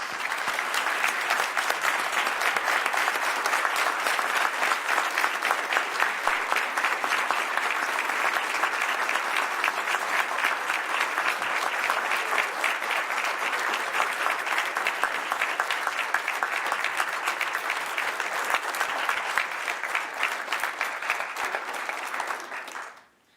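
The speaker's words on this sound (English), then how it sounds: "Please give them a big round of applause." Sustained applause from an audience as award recipients come up at a police department recognition ceremony, dense and steady throughout before stopping abruptly at the end.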